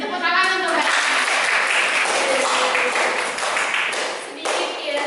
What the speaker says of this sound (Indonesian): Beri tepuk tangan untuk Mbak.